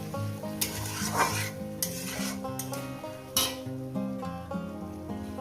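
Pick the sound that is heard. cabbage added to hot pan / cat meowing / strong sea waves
cabbage added to hot pan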